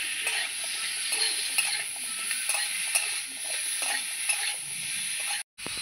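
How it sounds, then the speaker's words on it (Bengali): Marinated chicken for a home-style stew fries in a pan with a constant bright sizzle, broken by repeated spatula stirring scrapes at a steady pace, close and loud, with a brief dropout near the end and no talking. "সব দিয়ে এবার আমি ভালো করে নাড়াচাড়া করতে থাকবো আর এগুলোকে ভাজতে থাকবো।"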